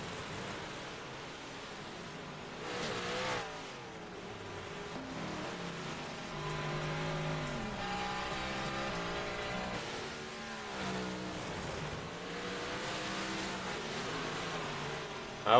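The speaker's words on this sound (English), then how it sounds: "Drivers get them cars dialed in here for the final feature of the Big Block 358s tonight." Big Block 358 modified race cars warm up at Weedsport speedway, engines roaring and revving in overlapping waves as cars pass by, with a loud, continuous rumble throughout.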